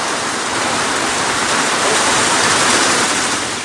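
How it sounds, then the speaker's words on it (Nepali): Heavy rain beats down on a shelter beside a fishing lake, a dense, loud, unbroken roar of drops drumming on the surface with no pauses. "भित्र बस्दा पनि पानीले हानिरहेछ त"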